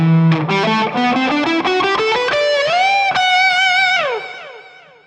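A distorted jazz fusion electric guitar line rises through quick notes into sustained tones, each echoed by delay repeats that trail off at the end; loud and close, no voices.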